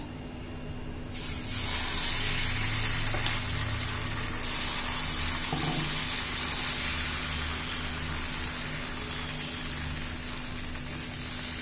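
After a quiet start, rice batter for ghavne hits a hot griddle and breaks into a loud, steady sizzle that hisses on evenly, slowly easing but never stopping.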